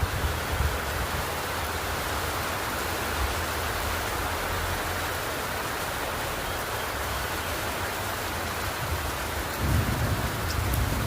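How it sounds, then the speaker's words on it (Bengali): Heavy rain pours down in a steady, dense hiss that runs unbroken throughout, with a few low rumbles underneath and no one speaking. "আমাদের এদিকে প্রচণ্ড বৃষ্টি হচ্ছে"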